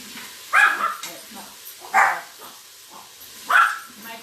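Three sharp dog barks spaced about a second and a half apart, close by, with softer sounds in between.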